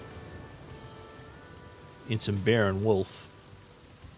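Constant rain in the survival video game The Flame in the Flood falls as a steady, soft hiss throughout, with a voice talking briefly over it midway.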